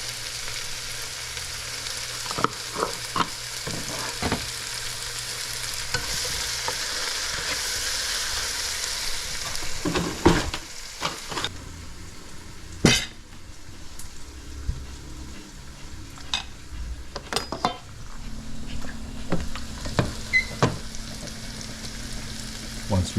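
Onions sizzling and wilting in a hot pan, a steady frying hiss running throughout with occasional stirring clinks and scrapes, close and moderately loud, with no talk over it.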